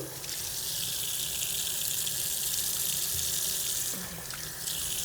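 A bathroom tap pours a steady, close stream of water for wetting the face during a travel night skincare routine, an even hiss with a slight surge near the end.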